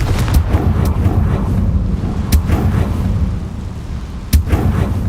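Confringo blasting spells in Hogwarts Legacy crack out as several sharp, heavy booms over a loud rumbling roar, with distinct hits near the start, in the middle and toward the end.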